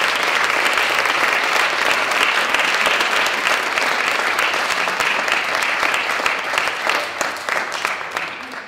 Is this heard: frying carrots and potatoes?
no